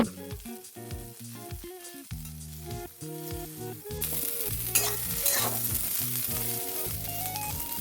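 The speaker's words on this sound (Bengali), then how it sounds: "যতক্ষণ আমি ফুলকপিটা ভাজছি" Cauliflower fries in a pan with a steady sizzle that grows louder and brighter partway through, under prominent background music.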